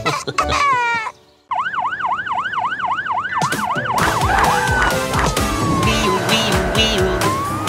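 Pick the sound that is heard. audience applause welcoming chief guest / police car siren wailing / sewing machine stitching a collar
police car siren wailing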